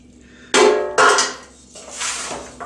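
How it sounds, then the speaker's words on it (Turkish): Shredded kadayif pastry is chopped into small pieces for künefe, a few sharp knife strikes on a board followed by softer scraping and rustling, close and without talk. "Şimdi kadayıfları küçük küçük doğrayacağız."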